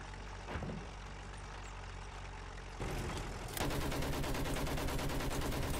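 Gunfire in the Battlefield 1 video game hitting a tank: rapid, dense crackling shots build up and grow louder over an engine rumble, with no talk.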